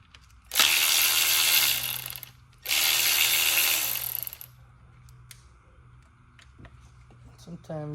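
A ratchet with an E10 socket loosens valve cover bolts on a 2007 BMW 528xi, making two loud, sustained bursts of rapid ratcheting up close, followed by quieter scattered clicks.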